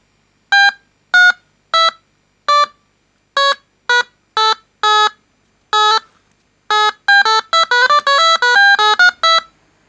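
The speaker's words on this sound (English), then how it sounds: "In a previous video, I made a 5x5 timer piano with using the same schematic." Electronic piano tones from a homemade 555 timer circuit, buzzy and square-edged, played as a series of separate notes that speed up into a quicker run near the end.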